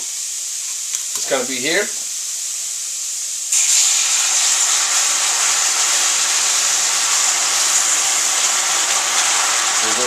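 Loud, steady sizzling from bratwursts frying in a pan with a little wine begins suddenly after a short spoken phrase and continues hissing without pause.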